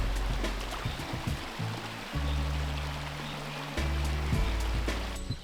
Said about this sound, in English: we're here at this local waterfall, which is an absolutely stunning place